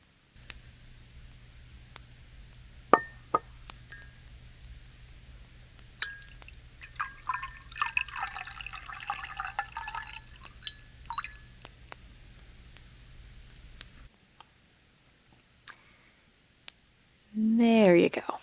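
Hot chocolate being made by a fireside on a cosy Christmas evening: soft drips, splashes and pouring liquid with gentle clinks, sitting over a low steady hum, and a short louder burst of sound near the end.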